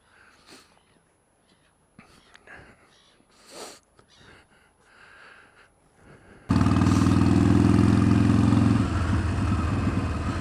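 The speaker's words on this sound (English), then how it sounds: "get back to the old Harley over here and get on with the ride home" Old Harley-Davidson motorcycle engine while riding home near Harwich, arriving abruptly after a quiet stretch of soft rustles and faint breathy sounds, then a loud, steady low-pitched rumble with strong wind noise.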